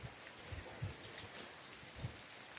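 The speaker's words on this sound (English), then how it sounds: "And then it started raining." Rain falling outdoors over a garden under grey skies, a soft, faint continuous patter with a few scattered heavier drops, no voices.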